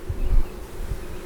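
Honey bees buzz in a dense, continuous drone during a hive installation at Stone Beach Farm, swelling louder for a moment and then settling, close by and with no one talking.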